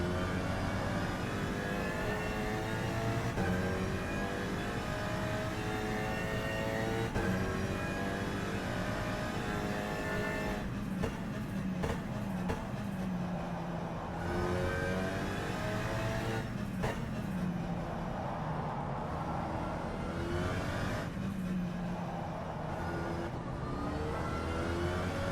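Simulated Alpine GT4 race car engine in rFactor 2 on a warm-up lap, droning steadily and loud with harmonic whine, shifting pitch as it accelerates and brakes, with brief gear-change dips; no talking.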